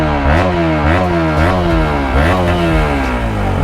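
A Pulsar RS200 motorcycle with a modified exhaust revs hard at full throttle, loud and close, its engine note climbing and falling in repeated rising sweeps with a crackly, throaty edge.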